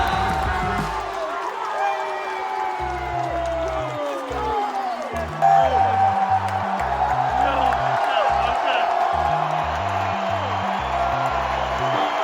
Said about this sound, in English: With the crowd absolutely buzzing, the whole third quarter continued to stay electric